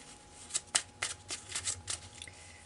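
Tarot de Marseille cards are shuffled by hand in a series of crisp riffling bursts and soft slaps, close and fairly quiet, with no talking.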